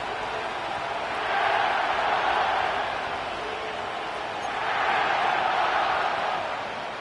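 Stadium crowd noise in an EA Sports NFL football game set at SoFi Stadium in Inglewood, a steady distant roar that swells twice, with no talk over it.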